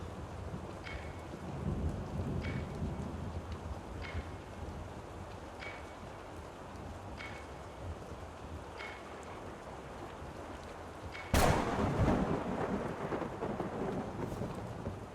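Steady rain and a thunderstorm in the video game Rue Valley: a constant hiss of falling rain with faint, regular ticks, then a sharp, close thunderclap that breaks into a long rolling rumble.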